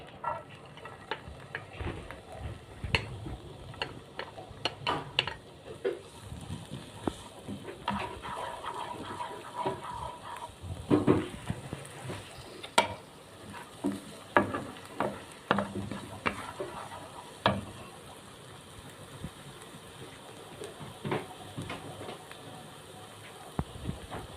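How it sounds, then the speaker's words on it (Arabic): Onion going into a little oil in a pan and being stirred, a soft sizzle broken by frequent scraping and clattering of a utensil, close and uneven over a low background. "اقوم حاطه شويه زيت وانزل بالبصله بتاعتي"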